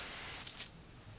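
A 12V battery low-voltage alarm circuit's buzzer sounds as one loud, steady high beep that cuts off after about half a second, leaving quiet background.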